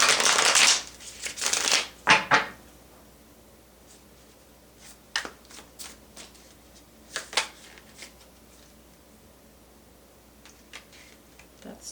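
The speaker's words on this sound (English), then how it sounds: "One more shuffle." A deck of playing cards being shuffled, a loud riffle burst at the start followed by a second shorter one, then sparse soft ticks and taps of cards being handled, close and otherwise quiet.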